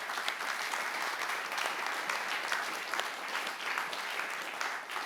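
An audience at a 40th anniversary ISC conference applauds its panelists, a steady wash of many hands clapping at a distance that holds evenly throughout.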